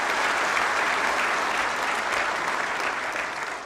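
An audience at a national launch ceremony addressed by the Prime Minister breaks into loud, sustained applause with dense clapping that fills the whole stretch and tapers slightly at the end.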